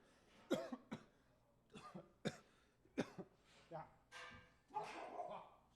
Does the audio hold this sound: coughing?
yes